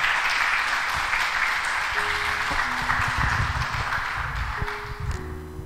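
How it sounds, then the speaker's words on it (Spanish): Church congregation applauding at a Spanish-language evangelical service, a steady wash of many hands clapping throughout, with a few faint tonal pings near the end. "Le damos un aplauso al Señor"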